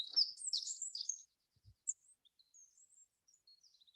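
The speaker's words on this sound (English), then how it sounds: "And the birds are awake, of course." Birds chirp and tweet in a forest with tall trees, a dense burst of high calls at first, then scattered thin calls trailing off, fairly near and clear with no talking.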